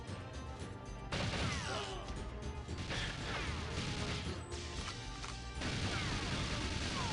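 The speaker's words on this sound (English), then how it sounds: "You can hear that both of the guns are going off at the same time." Rapid, overlapping gunfire from Donkey Kong 64, two guns firing at once, bursts of shots and crashing impacts layered together in a loud continuous barrage with no talking.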